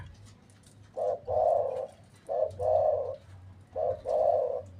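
Three cooing phrases from a trained decoy spotted dove, each a short note followed by a longer rolling coo, close and clear at a steady rhythm with brief pauses between.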